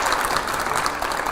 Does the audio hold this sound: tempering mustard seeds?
no